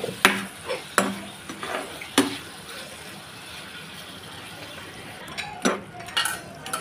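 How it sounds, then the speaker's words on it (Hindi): Chicken added to hot oil in a pan over medium flame, with a steady soft sizzle and several sharp clinks and scrapes of a utensil against the pan, close up with no talking. "तो यहाँ हमारा तेल गरम हो चुका है, इसमें ऐड कर देंगे हमारे चिकन को।"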